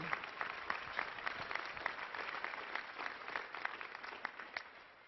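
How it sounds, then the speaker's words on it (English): A large audience claps at a university commencement ceremony on Father's Day, with distinct individual claps in a moderately quiet, continuous patter that tapers off toward the end. "let's give another round of applause to your family"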